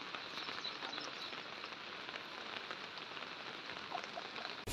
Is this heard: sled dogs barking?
no